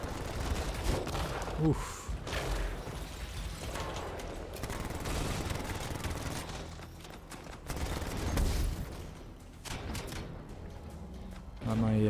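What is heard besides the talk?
machine pistol gunfire in the Anthem video game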